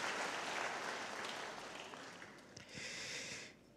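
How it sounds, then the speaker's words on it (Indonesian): Applause from a church congregation at a Sunday service in Bandung, a brief wash of clapping that swells, dips and rises again before fading out. "Boleh kita beri tepuk tangan buat dia."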